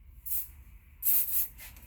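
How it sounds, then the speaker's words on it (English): Hairspray misted over freshly wand-curled hair in two short hissing bursts, the second longer and louder, close by with quiet pauses between. "And of course, you gotta spray it."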